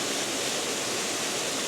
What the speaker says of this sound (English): quite a lovely little waterfall